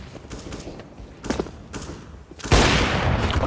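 Flashbang grenade in Counter-Strike: Global Offensive: soft scattered thumps lead up to a sudden loud burst that holds as a bright, sustained hiss and ring to the end.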